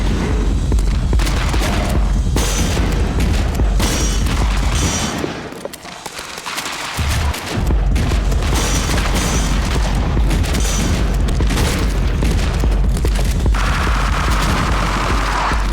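Rapid bursts of submachine gun fire in a video game arena boss level, loud and dense, with booming blasts layered throughout and a brief lull midway before the shooting resumes.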